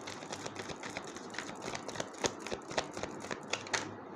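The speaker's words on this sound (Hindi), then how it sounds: "This is my last shuffle." Tarot cards being shuffled, a rapid run of crisp riffling clicks and flutters that grows denser toward the end, close and fairly quiet with no talking.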